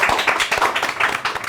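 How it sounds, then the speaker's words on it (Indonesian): Hands clapping in a small burst of applause, quick close rhythmic claps over a brief stretch. "Tepuk tangan."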